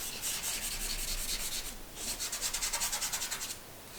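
A charcoal stick is rubbed and sharpened against an abrasive surface for charcoal drawing, giving a close, steady scraping in two bursts, the second with quick back-and-forth strokes, alone with no talk.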